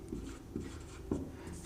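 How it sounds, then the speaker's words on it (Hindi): Pen writing by hand on paper while working a trigonometry problem, a few soft scratchy strokes close up with no talking. "लिखेंगे अब"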